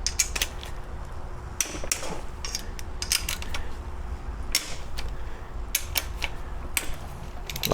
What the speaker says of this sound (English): Grab a 12mm socket. We're gonna go ahead and bust these loose.